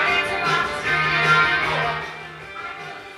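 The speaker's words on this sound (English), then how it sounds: "There's my ringtone." Smartphone ringtone playing a song: a dense, fairly loud stretch of tuneful pop music with a steady sustained tone running beneath it, heard alone without speech.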